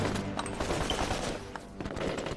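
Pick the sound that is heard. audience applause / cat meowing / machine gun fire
machine gun fire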